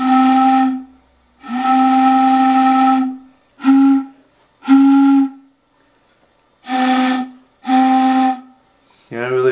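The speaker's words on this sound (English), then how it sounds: "I got my whistle all together." A boat steam whistle with a leather-cup pump blows in six separate blasts of varying length, loud and close, with short silences between and a brief hiss at the end.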